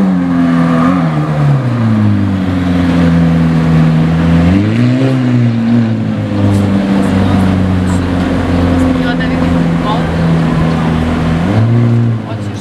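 A sports car's engine drones loudly and steadily, rising and falling in pitch as it revs, with a deep exhaust rumble throughout, from an aftermarket exhaust.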